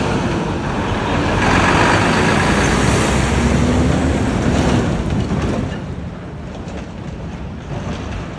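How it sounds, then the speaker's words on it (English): A livestock truck drives past on the road outside a large beef, pork and lamb processing facility, a loud, steady broadband rumble that swells, then eases off as it moves away. "Death truck driving by."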